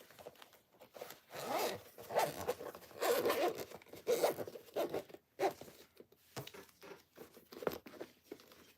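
A zipper is pulled and handled repeatedly during sewing of a Valentine's project, with close, scratchy zips and crinkly rustles in uneven bursts and short pauses between them.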